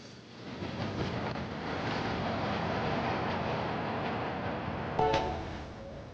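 A train passing through snowy Russian Lapland at minus 20 degrees, a steady broad rumble and rush of wheels on rails heard from nearby, with a brief sharper clank near the end.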